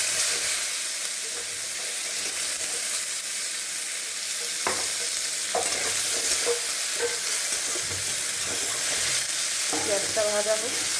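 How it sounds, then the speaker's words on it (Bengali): A large onion fries in oil with lightly browned cumin seeds for fish-head khichuri, giving a steady close sizzle and hiss with intermittent stirring scrapes and no talk. "পেঁয়াজটা ভাজা হোক"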